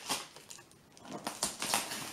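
Crinkly, uneven bursts of wrapping paper tearing by hand in short rips and pulls, close by, with no talking.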